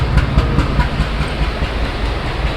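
Loud, steady rumble of a passenger train at a station with rhythmic clickety-clack beats running throughout, close by and continuous.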